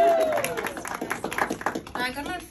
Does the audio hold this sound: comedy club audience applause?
yes